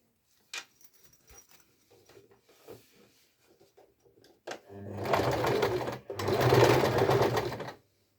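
Sewing machine stitching the edges of a fabric wallet, two close, loud runs of rapid mechanical chatter with a brief pause between them, following a stretch of soft handling clicks and rustles.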